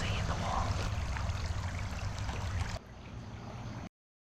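Flowing creek water behind a pub in Mackay, a steady broadband rush and trickle close by, dropping quieter near the end before cutting to silence; no speech.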